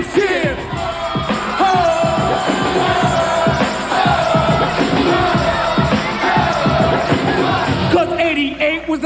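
Crowd at a comic convention yelling and whooping over loud music, a dense continuous roar of voices with shouts rising through it, close and loud.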